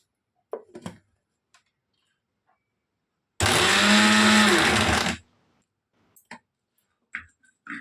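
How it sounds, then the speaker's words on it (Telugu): A mixer grinder whirs loudly in one short burst of about two seconds, coarsely grinding dry prawn chutney, surrounded by quiet clicks and taps. "మిక్సీ పట్టడం కూడా చూపిస్తాను చూడండి"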